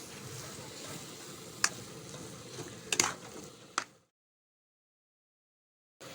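Carrot halwa cooks in a pan and is stirred, a faint frying hiss with a few sharp spoon clinks against the metal before the sound cuts to silence.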